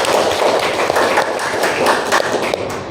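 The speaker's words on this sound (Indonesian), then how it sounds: "Oke, tepuk tangan dulu." An audience at an Indonesian university teacher-training session claps together, producing dense, continuous applause that stays steady and fairly loud for the whole stretch.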